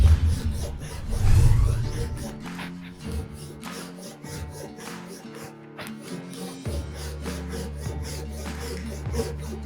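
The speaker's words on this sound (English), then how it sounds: "now I'm just pulling my saw in, and doing long repetitive cuts" A hand saw works across a workbench board in a kerf, with long repetitive strokes making a rasping, rubbing sound of moderate loudness, one heavier stroke near the start.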